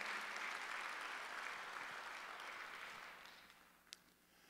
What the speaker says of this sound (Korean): 박수로 하나 더 해주세요.